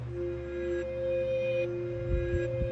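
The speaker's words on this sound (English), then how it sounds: "We also bring back the reversed bell, but it's in its original octave, so low." Reversed bell pitched low in its original octave, sustained tones swelling inside a halftime beat with deep sub bass and kick hits entering toward the end.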